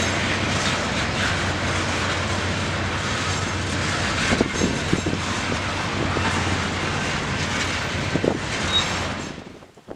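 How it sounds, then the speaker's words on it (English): A freight train of hopper cars and hydrochloric acid tank cars rolls past nearby in a loud, continuous roar with occasional wheel clanks, fading away at the very end. "The end of the train was brought up with these hydrochloric acid tank cars, and the whole thing was soon gone."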